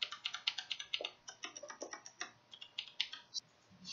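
A computer keyboard fitted with rubber O-ring dampeners is typed on up close, giving a quick run of soft, muted key clicks and a few heavier thuds, quiet and uneven with no talking.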